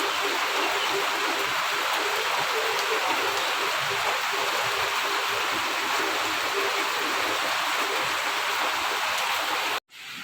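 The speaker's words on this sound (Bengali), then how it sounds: "কি জোর বৃষ্টি নামলো" Heavy rain pours steadily as a dense, continuous wash of loud, even hiss, with no talk, cutting off abruptly just before the end.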